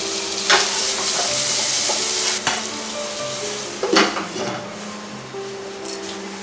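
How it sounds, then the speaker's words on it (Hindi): A spatula stirs a salted onion and tomato paste, seasoned with Kashmiri red chilli powder, as it fries and sizzles in a pan for lauki chana dal. Utensil scrapes and clinks on the pan sound steadily throughout, with no voices. "और मिला लेंगे इनको।"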